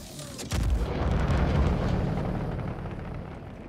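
A missile fires from an Eclipse stealth bomber in the Star Citizen video game: a sudden deep boom, then a loud sustained roaring rumble that slowly fades, with no talking.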